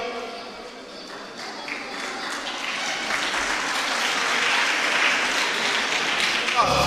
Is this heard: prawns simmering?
no